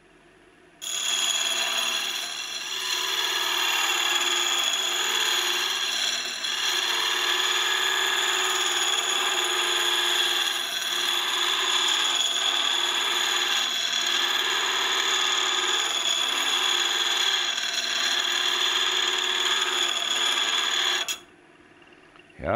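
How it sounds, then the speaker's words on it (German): A grinding wheel sharpens the flank and cutting edge of a boring tool, a steady high-pitched whine with ringing tones that runs unbroken for about twenty seconds before cutting off, no voices heard. "Zunächst schleife ich mal hier die Flanke etwas schlanker."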